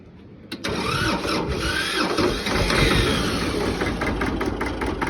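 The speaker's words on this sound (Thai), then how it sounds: "เดี๋ยวสตาร์ทเครื่องดูนะครับ" A Hinomoto E23 tractor engine, converted to run on oil-soaked wick fuel, cranks and catches after a brief quiet moment, then settles into a steady, loud, smooth idle that continues to the end.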